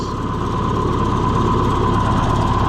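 An Allis Chalmers 175 diesel tractor engine runs at a steady loud idle, close by, with a constant low throbbing drone and a faint whine, no voices.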